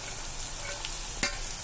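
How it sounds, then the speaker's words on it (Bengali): A fish head fries with potatoes and onions in a pan while a spatula stirs and breaks it up, giving a soft steady sizzle and one sharp scrape of the spatula. "মাছের মাথাটা ভালো করে ভাজা হয়ে গেছে। দেখো আমি ভালো করে খুন্তির সাহায্যে গুঁড়ো করে নিয়েছি মাছের মাথাটা।"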